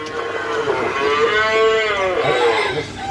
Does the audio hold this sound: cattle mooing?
yes